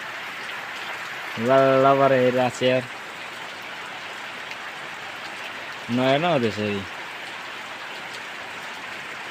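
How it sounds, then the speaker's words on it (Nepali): Steady rain falls throughout, a constant hiss of drops on a rural hillside where grass is being cut, with two short bursts of a nearby voice speaking over it. "पानी बिदो लाग्न झन् बढिरहेको छ पानी।"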